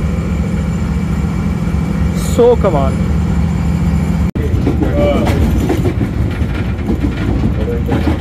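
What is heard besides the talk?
railcar train running through station yard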